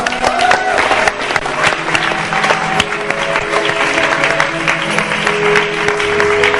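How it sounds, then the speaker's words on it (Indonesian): A studio audience at a television talk show claps in a steady, fairly loud burst that runs the whole stretch, with some crowd voices and faint music mixed in. "Tepuk tangan dong."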